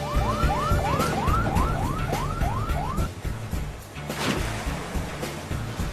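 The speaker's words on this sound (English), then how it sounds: "now I've got a siren" A siren wails in quick rising sweeps, about eight cycles, then cuts off, leaving steady traffic rumble behind.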